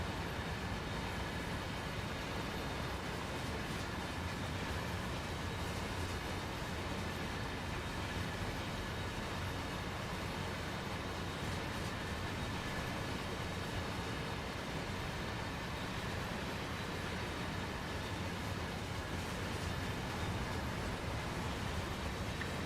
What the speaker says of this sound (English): It is a big train, isn't it?